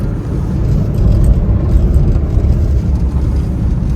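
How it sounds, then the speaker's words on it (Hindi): A Hyundai Santro car driving at about 80 km/h on a winter mountain road, heard from inside the cabin as a loud, steady rumble of road and engine noise with no talking. "80 की स्पीड पे गाड़ी चल रही है"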